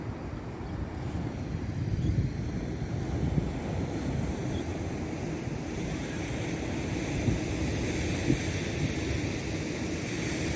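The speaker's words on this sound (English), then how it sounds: "The ocean waves, so peaceful." Steady ocean surf rolling onto Myrtle Beach, a continuous broad wash of breaking waves mixed with wind buffeting the microphone, close and fairly loud with no voices.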